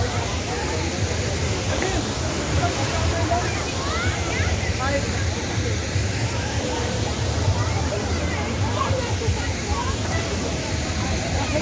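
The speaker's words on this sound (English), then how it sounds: "this waterfall is about 10 kilometers distance from Ghatagaon of Keonjhar district" Waterfall about 10 km from Ghatagaon in Keonjhar district, within surrounding forest: a steady, dense broadband rush of falling water running unbroken throughout, loud and continuous, with faint background chatter mixed in.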